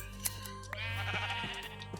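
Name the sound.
sheep bleating in Minecraft FTB Infinity Evolved video game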